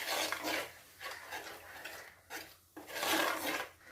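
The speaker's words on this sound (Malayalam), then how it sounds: "ഇതൊന്ന് ഇളക്കി കൊടുക്കട്ടെ. ഇളക്കി വഴട്ടിയെടുക്കണം." Food being stirred and sautéed in a pan, a utensil scraping and clinking against the metal in repeated close strokes with brief pauses, no voices.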